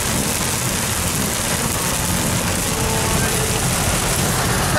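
Heavy rain pours onto a car while it is being driven, a dense, loud, steady roar of water drumming on the body and glass with engine and road noise underneath throughout.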